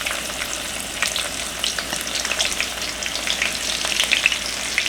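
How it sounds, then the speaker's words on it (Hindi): Chopped onion frying in oil in a karahi for bhuna qeema, a steady dense crackling sizzle that stays even and close throughout with no talk. "प्याज को हम गोल्डन ब्राउन कर लेंगे।"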